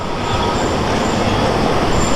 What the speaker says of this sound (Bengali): অ্যাকচুয়ালি এই ট্রেনগুলো হচ্ছে লোকাল ট্রেন